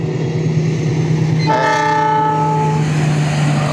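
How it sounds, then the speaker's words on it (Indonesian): A loud, steady train horn blares close by over the continuous rumble of a passing train. "nah udah terlewati keretanya teman-teman"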